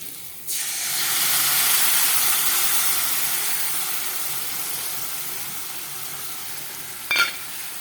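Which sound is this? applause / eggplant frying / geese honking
eggplant frying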